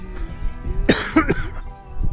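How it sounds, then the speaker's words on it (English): A few dry, raspy coughs come close together, loud and near, followed by a short throat-clearing sound. "Developed a little bit of a dry cough."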